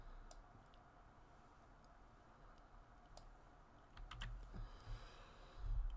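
Keys tapped on a computer keyboard, a few sparse clicks followed by a quicker flurry of typing, close and quiet with no talking.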